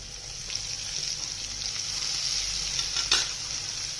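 Sliced onion sautéing in a pan for a broccoli vegetable dish, a steady soft sizzle with faint stirring scrapes and one sharper scrape near the end, fairly quiet and with no voices.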